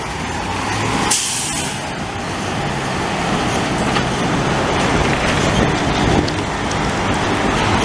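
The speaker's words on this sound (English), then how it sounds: "even here there's a lot of traffic." Busy street traffic on Boulevard Crémazie in Montreal's St-Michel borough: a loud, continuous roar of passing vehicles with a sharp air-brake hiss near the start and trucks rumbling close by.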